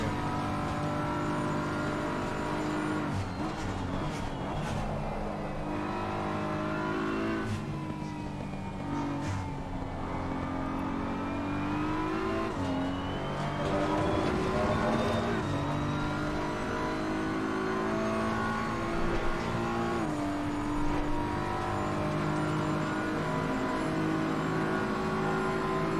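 A BMW M4 GT3 race car at Suzuka in Assetto Corsa Competizione holds a loud, continuous engine note, its pitch rising and falling through gear changes and corners with no talk over it.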